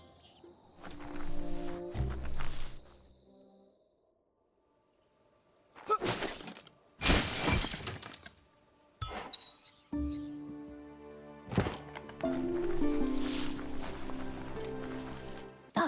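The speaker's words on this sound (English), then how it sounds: "You shouldn't worry about smashing up the box" A box is smashed in the video game Biomutant: loud bursts of shattering and clinking debris arrive in several separate crashes, with quieter game ambience and footsteps between them.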